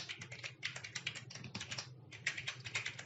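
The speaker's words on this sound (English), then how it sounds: "we need to type sudo -i command and type the current" Typing on a computer keyboard in a Linux terminal, a quick, steady run of close key clicks with a short pause midway, quiet and with no talking.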